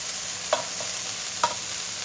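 Food cooks in a skillet over an open outdoor fire, a steady close sizzle with two sharp utensil taps against the pan.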